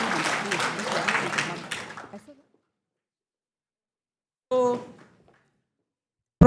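An audience applauds and cheers for an award recipient at a university staff performance awards ceremony, a dense burst of clapping that fades out, followed by silence and then someone speaking.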